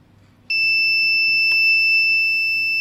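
A piezo buzzer on a homemade Arduino smart blind stick with an ultrasonic sensor, triggered by a remote transmitter, sounds a sudden, loud, sustained shrill tone with a brief click partway through, with no voices.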